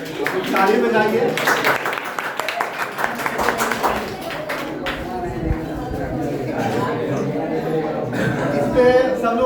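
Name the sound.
audience clapping at a student award ceremony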